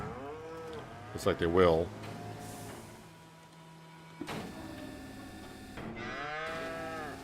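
Cattle in Farming Simulator 25 low in a barn scene, a couple of moos rising between stretches of ambient hum, with a person talking briefly over them.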